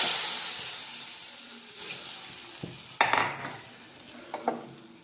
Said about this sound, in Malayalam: അപ്പോൾ കരിവേപ്പിലയും കടുകും കൂടി വറുത്ത് ഇതിനകത്തോട്ട് ചേർക്കാം.